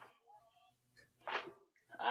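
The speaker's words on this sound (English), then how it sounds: "There's so much seasoning it got me sneezing." A sneeze set off by heavy chili seasoning, a sharp close burst after soft breathy sounds, with a second sneeze or exhale starting at the end.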